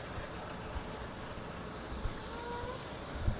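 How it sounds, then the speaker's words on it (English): A truck in a street beside the Baha'i Gardens in Haifa, Israel, rumbling past as a continuous broad engine and road noise at moderate distance, with a few soft low thumps. "Oh, nice truck here making a racket."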